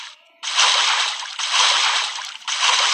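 A character swimming through water in the Free Fire video game gives loud, close, rushing splashes in three long surges with short dips between them, after a brief quiet start.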